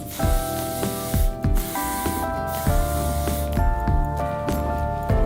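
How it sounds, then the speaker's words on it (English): Hairspray hisses from a can onto a ballerina bun in several short bursts, with music playing underneath. "then you just want to put a little bit more hairspray on just to keep it in place"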